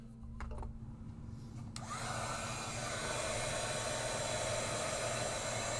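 A heat tool warming embossing powder: after a short quiet start, a steady blowing whir with a hiss starts up and runs on evenly. It is close and moderately loud, with no talk.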